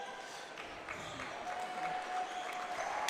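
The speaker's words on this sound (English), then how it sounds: "that's a good round of applause for the hustle out of number 20" A crowd at a boys high school basketball game, Argos vs North Miami, gives a round of applause from the gym stands. The clapping is a moderate, continuous patter with a faint steady tone underneath.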